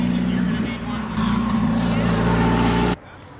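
A fully built hatchback launches hard at a drag strip, its engine roaring loud and close for about three seconds before cutting off abruptly, with voices talking over it.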